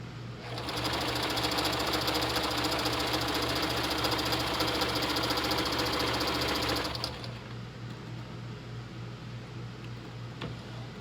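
A sewing machine runs a zigzag stitch along the folded edge of fabric, a loud, fast, even rattle held for about six seconds before it stops and leaves a quieter hum.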